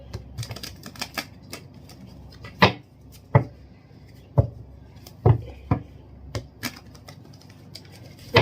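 Tarot cards are shuffled by hand during a reading, producing a run of sharp, dry taps and snaps at irregular intervals, close and fairly loud, with a few heavier knocks standing out between lighter clicks.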